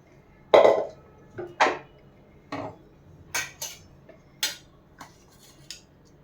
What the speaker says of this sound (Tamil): இப்போ கிணத்துல ஊற்றி அப்படியே நம்ம மூடி வச்சிடலாம்.